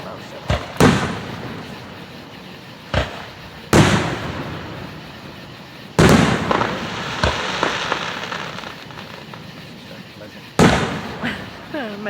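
Independence Day fireworks in Vian, Oklahoma boom in loud, sharp bursts spaced a few seconds apart, each trailing off into crackle and rumble, with a crowd's voices and cheers audible between the blasts.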